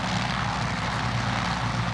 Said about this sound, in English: the crewman starts the engine for Cheryl Greer